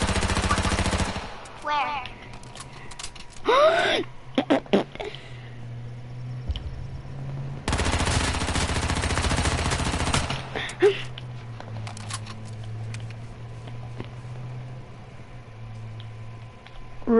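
Rapid bursts of gunfire from a player spinning, jumping and shooting in a video game, loud clusters of shots with game effects in between, while a voice briefly speaks over it.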